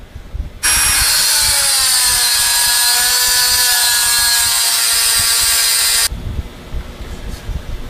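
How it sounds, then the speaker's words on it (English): A Dremel cutting wheel grinds into the outer race of a Valeo alternator bearing, giving a steady, loud, high-pitched whine that starts abruptly, holds for about five seconds with slowly falling pitch, then cuts off. "We're going to use the Dremel wheel to cut along that line."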